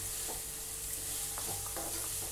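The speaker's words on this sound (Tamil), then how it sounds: "ஒரு 2 நிமிஷம் காய் எண்ணெயில் நல்லா வதங்கட்டும்." Finely chopped vegetables and beans sauté in oil for a vegetable lollipop starter, giving a soft steady sizzle with a few light stirring scrapes, heard quietly and alone.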